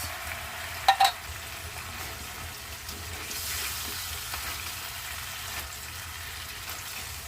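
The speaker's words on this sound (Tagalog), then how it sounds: "Igisa-gisa muna natin yung tomato sauce para maluto siya." Tomato sauce with garbanzos sautéing in a pan for pochero, a soft steady sizzle with light stirring and a couple of brief utensil clinks near the start.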